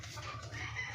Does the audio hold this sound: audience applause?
no